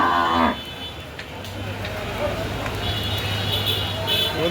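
Cattle at the Dugdugi livestock market in Chuadanga: a clear moo opens, then a low bellow continues under a busy crowd murmur and voices in the background.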